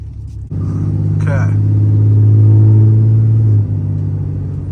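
A lifted 2016 Ram 2500 diesel pickup pulls away with a loud, steady low engine drone and rumble that builds for a few seconds, then eases slightly; a voice speaks briefly near the start.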